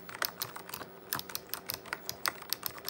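Rapid, uneven keystrokes clatter on an old IBM Model F buckling-spring keyboard used with an IBM PC 5160, each press a crisp, loud click in a steady burst of typing with no voices.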